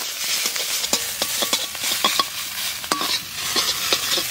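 Leafy greens are stir-fried in a wok over a loud bright sizzle, with a rapid irregular series of spatula scrapes and knocks against the pan.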